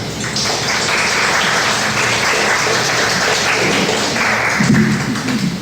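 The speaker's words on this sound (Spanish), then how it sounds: "Un fuerte aplauso." An audience claps loudly and steadily to welcome a speaker to a conference stage, a continuous wash of applause lasting several seconds with no talking over it.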